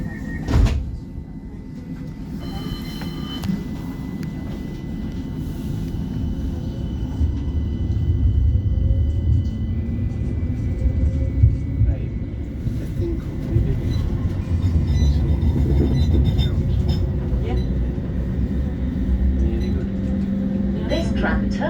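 A West Midlands Metro tram pulls away from St Chad's stop after its doors close, a steady low rumble and rising motor hum building and holding inside the car, with an onboard announcement voice heard.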